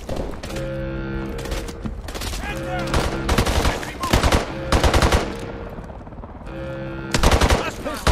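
SMG fire in the Call of Duty: Advanced Warfare video game plays as loud repeated bursts of rapid automatic shots over a steady droning score, with brief pauses between volleys.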